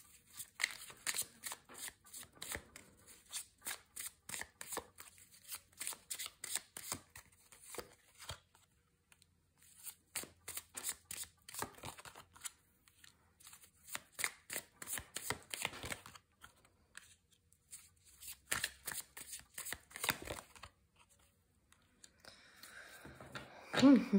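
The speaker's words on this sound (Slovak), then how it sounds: "Ideme si tu vytiahnuť nejaké karty." A deck of cards is shuffled and drawn in rapid riffling bursts, crisp fluttering runs of card edges separated by short pauses, close and fairly quiet, with a brief soft voice near the end.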